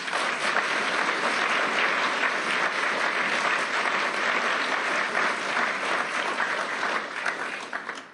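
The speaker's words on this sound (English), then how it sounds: "I think you can hear from the warm applause" Warm, sustained audience applause fills a conference hall at the World Economic Forum in Davos, a dense, even roar of many hands that holds steady before easing off at the end.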